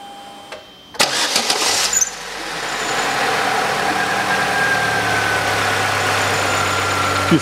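A 2008 Chevrolet Lanos petrol engine, just fitted with a new timing belt, cranks briefly, catches and settles into a steady close idle that carries on alone.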